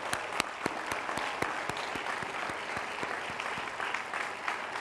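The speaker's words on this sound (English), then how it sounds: "So let's give them all a very big round of applause." An audience gives sustained applause for parents and families, dense steady clapping with sharp individual claps standing out, loud and continuous throughout.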